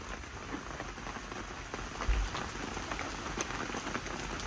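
Heavy storm rain pours steadily onto a backyard chicken coop whose roof cover has blown open, a dense continuous patter with a brief thud partway through and no voices.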